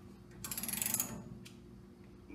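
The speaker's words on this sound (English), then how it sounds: "Get the socket on. So as I'm rotating, tighten it down, seat the bearings." A socket wrench ratchets on a full floating axle nut, tightening it down to seat the wheel bearings: a short, fast run of quiet clicking pawl ticks, then a single faint metallic click, close by and alone.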